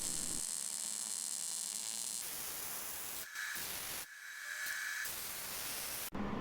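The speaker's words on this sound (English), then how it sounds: "I'm just gonna lay a bead down on either side" MIG welding bead laid on metal with a Millermatic 175 welder, a continuous crackling hiss that runs in several bursts separated by brief pauses, with no voices.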